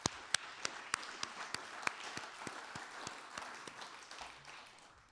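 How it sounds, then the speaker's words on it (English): Audience applause at a club luncheon for the passing of the gavel: scattered sharp claps near the start thicken into steady, moderately quiet clapping that slowly fades. "So let's give them a round of applause for volunteering."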